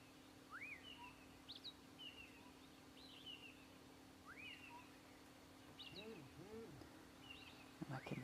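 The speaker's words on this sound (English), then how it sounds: "I can hear there are a few other birds that are starting to chirp in the background." Several wild birds give short, rising chirps and whistled notes at intervals in an open outdoor setting, faint and somewhat distant over a low steady hum.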